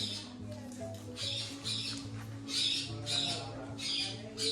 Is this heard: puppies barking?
no